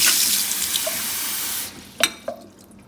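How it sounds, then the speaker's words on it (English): Water runs steadily from a Moen kitchen faucet to flush the cartridge, a close, even gush that cuts off and leaves a couple of brief drips and clicks. "so I may have to flush it out a little bit."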